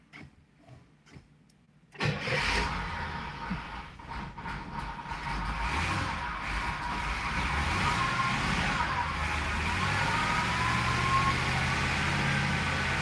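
An old car engine, sitting unused for 30 years, cranks after a few quiet clicks and catches, then runs with a rough, loud idle that steadies and builds over several seconds.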